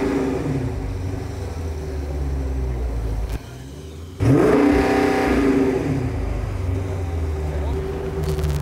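A sports car engine idles, then revs sharply upward in a loud burst before settling to a steady rumble.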